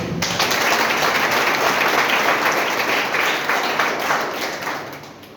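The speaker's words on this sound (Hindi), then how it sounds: "सर के लिए जोरदार तालियां तो हुई" A seated audience applauds a speaker with loud, dense clapping from many hands, sustained for several seconds before gradually thinning out.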